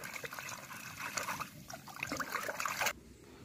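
Bhola fish being washed by hand in water in a village kitchen, a steady splashing trickle and slosh close by that stops abruptly near the end.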